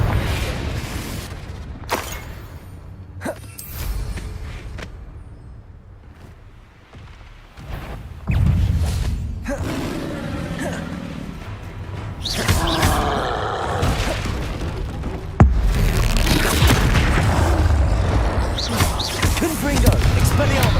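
Confringo fire spells in Hogwarts Legacy burst with booming explosions during combat, several loud blasts in irregular succession amid clattering effects, with spoken spell incantations and other voices over them.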